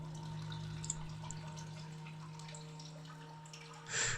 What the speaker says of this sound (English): A stream of water is flowing through the cave wall into the rock pool.